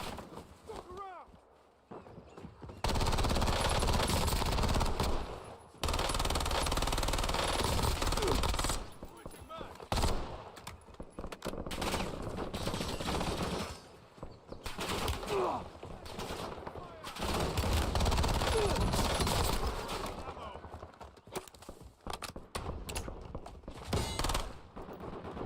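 Sustained automatic gunfire in the video game Warzone, rapid bursts and volleys running almost continuously under a streamer's voice, with a few short pauses between strings of shots.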